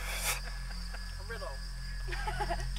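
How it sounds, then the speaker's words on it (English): Constant high-pitched cricket chirring fills the background while faint voices murmur underneath. "hear the crickets? The crickets, yeah."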